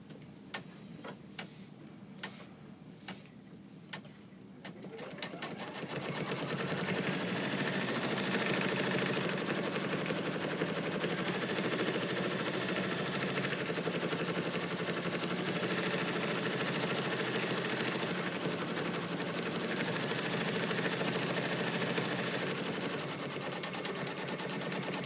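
Soft ticking clicks come first, then an embroidery sewing machine stitches an in-the-hoop pattern weight with red thread, giving a continuous, even, close mechanical hum and rattle.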